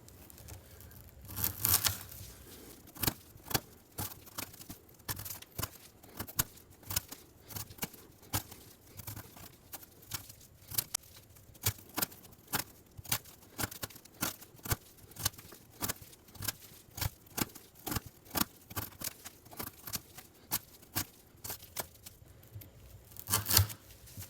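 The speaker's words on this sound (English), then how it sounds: "we're gonna try to cut some of this ½ inch twisted sisal rope" A Kizer Deadpool fixed blade knife slices through half inch twisted sisal rope again and again, each cut a sharp fibrous snap or tearing crunch in an uneven, rapid series, close and clear with no talk.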